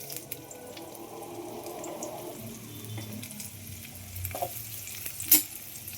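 Chopped onions sizzling in hot oil for chicken gravy curry, a steady close frying crackle with a brief clink near the end.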